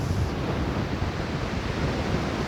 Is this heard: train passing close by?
no